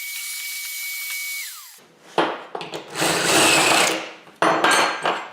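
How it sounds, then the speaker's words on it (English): A steady whine from a deburring tool cuts off, followed by scraping and rubbing on a metal steering part, close by with short pauses and renewed bursts. "Making sure to remove any burr if there are any left"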